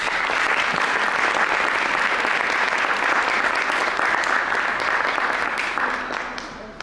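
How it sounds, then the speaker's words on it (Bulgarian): Sustained applause from a crowd, steady and loud throughout, tapering slightly at the end. "Аплодисменти за Изела."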